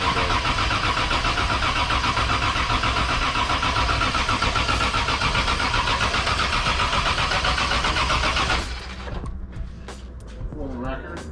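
A car engine is cranked and started without fuel, running loud and steady close by for about eight seconds, then cutting to quieter noises and faint talk.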